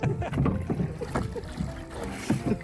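Oars pull a rowboat through water in steady, repeated strokes, each with a low splash and knock, heard close and fairly loud under rushing wind noise.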